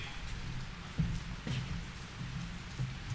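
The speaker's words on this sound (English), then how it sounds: "We got a little bit of rain coming in. It's on the ground." Light rain falling outdoors at a morning briefing for the Dixie Fire, a steady soft patter with a low rumbling background and a few slightly louder knocks, no talking.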